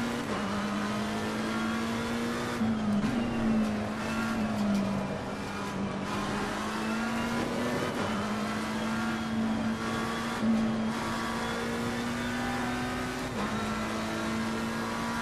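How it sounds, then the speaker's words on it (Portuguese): Engines of GT race cars, including a Lamborghini and an Aston Martin, in the racing game Assetto Corsa Competizione, holding a steady loud tone that climbs and dips through gear changes as cars fight for position, with no voices. "Olha ali a ultrapassagem do Lamborghini em cima do Aston Martin, bem legal."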